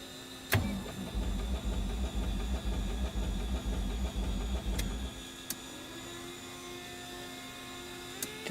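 Piston engine of a Black Square Baron or Bonanza in Microsoft Flight Simulator 2024 throttling up: a loud, steady low drone and hum that cuts off abruptly about two thirds through, leaving a faint electrical hum with a few clicks.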